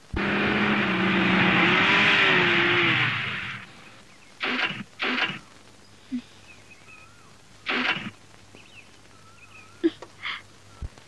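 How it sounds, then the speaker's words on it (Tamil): A vehicle drives along and comes to a stop in a Tamil film scene: a loud engine rumble for about three and a half seconds cuts off abruptly, followed by quiet with a few short, scattered knocks and bumps. "வண்டி நின்றுச்சு."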